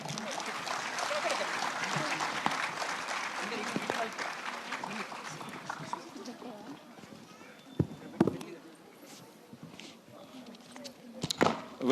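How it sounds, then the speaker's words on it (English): Applause from an evening event audience in Hyderabad for a children's performance, sustained crowd clapping that gradually thins into sparse claps amid background noise and voices. "Another round of applause for the wonderful children, please."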